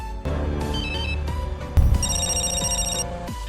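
A telephone rings in a tense thriller scene, its electronic ring repeating in steady bursts over a low ominous musical score, loud and close with no voices.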